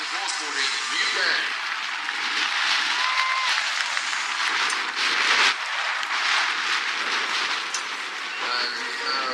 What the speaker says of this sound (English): let's start with a big round of applause for all the teams of horseboarding in the UK